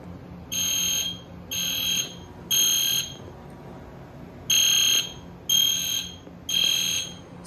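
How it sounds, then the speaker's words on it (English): An EST Genesis fire alarm, set off by a heat detector, sounds six loud electronic horn-strobe blasts. They come in two groups of three, each about half a second long with short gaps and a longer pause between the groups. "So this detector will set off the EST Genesis if it's set off."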